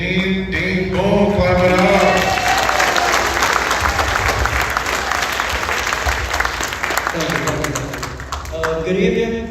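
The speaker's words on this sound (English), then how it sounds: "Dean Boone, clap it up." A high school freshman orientation audience applauds an energetic dean, a loud burst of dense clapping and crowd noise swelling in the middle and tapering off, with voices speaking before and after.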